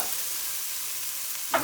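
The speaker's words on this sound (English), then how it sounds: "So give it a quick stir around." Stir-frying in hot oil for a pork rib and vegetable dish makes an even, close sizzle that runs throughout, ending in one brief clack of a utensil, with no speech.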